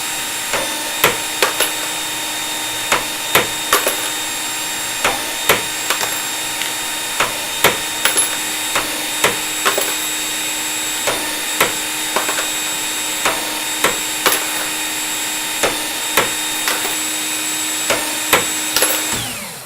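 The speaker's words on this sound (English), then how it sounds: "So I'm just going to trim a few here just to kind of show you guys how the process works." A brass trimmer works on rifle cartridge cases, giving a steady powered whir broken by regular sharp clicks or knocks about once a second as each case is trimmed.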